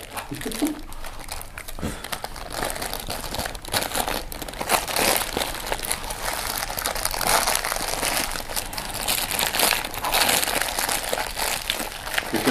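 A leftover hamburger being wrapped back up in its paper wrapper: continuous close, loud crinkling and crumpling of paper throughout, with people talking intermittently in the background.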